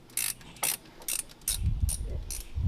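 An impact wrench, an Ugga Dugga, fastening bolts on a TorqStorm supercharger: a few short, sharp mechanical bursts close by, followed by a rougher, lower rattling rumble, with no voices.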